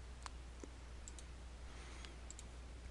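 Faint, sparse mouse clicks at a computer, a handful of short sharp ticks spaced irregularly over a quiet background hum.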